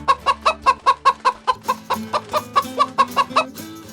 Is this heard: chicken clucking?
yes